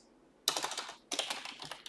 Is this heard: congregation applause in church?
no